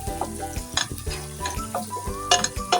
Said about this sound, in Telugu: ఆనియన్ వేసుకొని లైట్ బ్రౌన్ కలర్ వచ్చేంత వరకు మీడియం ఫ్లేమ్ పెట్టుకొని వేయించుకోవాలి